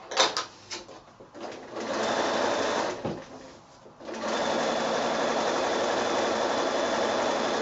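A sewing machine overcasting the edges of a child's pillowcase runs in short starts, pauses briefly, then settles into a long, steady close mechanical whir.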